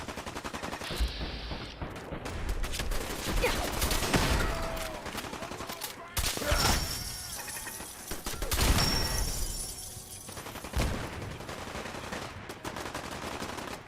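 Rapid gunfire in Fallout 4, with repeated loud bursts of automatic shots and scattered single reports filling the scene, punctuated by brief shattering impacts and steady game ambience.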